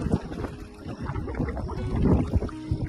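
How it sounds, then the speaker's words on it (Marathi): A speedboat runs fast on a Konkan coastal creek, its motor a rough, churning rumble mixed with water rush and wind buffeting the microphone, close and continuous. "आमचे स्पीड बोट बघा किती फास्ट चालले"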